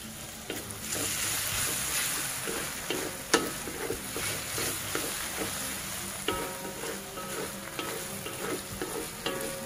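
Ground dried chili sautéing in a pan, a steady close sizzle with a spatula stirring and scraping in frequent light strokes throughout, no voices.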